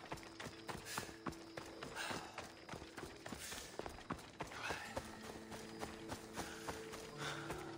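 Hooves clip-clopping as a horse is ridden in the Ancient Greek world of Assassin's Creed Odyssey, a steady trotting rhythm of close, repeated hoof strikes with faint mechanical clatter and game ambience beneath.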